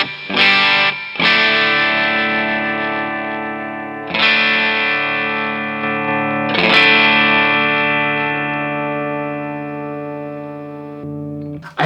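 Electric guitar on the bridge pickup runs through a mostly analog pedalboard with the power amp simulation switched on, giving distorted chords that ring out long and hang between four separate strikes, played alone with no talking.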